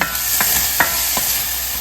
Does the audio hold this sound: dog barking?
no